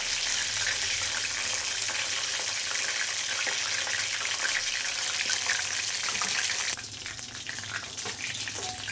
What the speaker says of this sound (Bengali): আমি সুন্দর করে মুচমুচে করে লাল লাল করে ভাজবো বন্ধুরা।